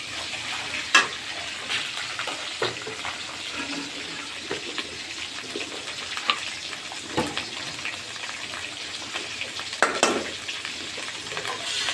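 Chopped onion, hot Bombay chili and ginger-garlic-cumin paste fry in a pan with a steady, fairly quiet sizzle, broken by occasional sharper clicks and scrapes of stirring.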